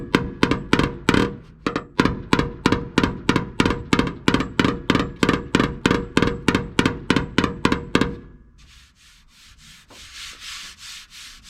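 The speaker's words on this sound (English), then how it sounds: "So I'm gonna have to probably tap that with my hammer." Rapid, evenly spaced metallic hammer taps on a metal body panel of a REO F20 truck ring out about three per second for several seconds, then stop, leaving a softer rubbing noise.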